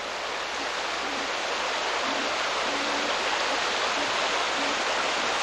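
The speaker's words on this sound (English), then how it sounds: "It's always been kind of mild current coming through here." Mild current of water flowing steadily through a slough in Alaska, a continuous broadband rush with no breaks, fairly loud and close, with no voices.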